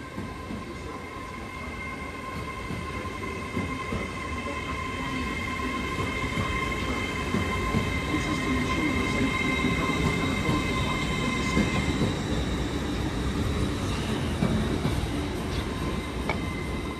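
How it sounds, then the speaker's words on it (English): A Northern train runs through Durham station without stopping, a steady rumble of wheels and rail noise with faint squeal, building and holding loud across the whole stretch with no talk. "the train now approaching platform 1 does not stop here"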